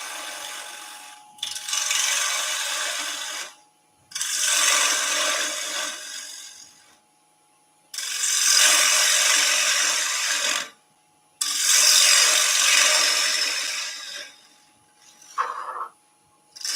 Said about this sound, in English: just a little bit of hollowing out